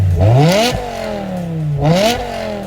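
A V10 engine revving toward nearly 8,500 RPM, two loud, close blips climbing sharply in pitch and then falling back to a steady idle between them.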